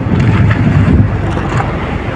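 Strong wind roars across the microphone aboard a small fishing boat in bad weather, a steady loud buffeting rush with low rumble, no talk.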